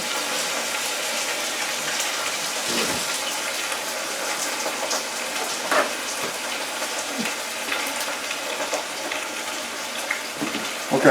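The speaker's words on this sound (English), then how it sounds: "I'm going to throw this beef in there." Beef hits hot oil and sears with a steady, loud hiss and crackle that keeps going, with occasional pops and no talking.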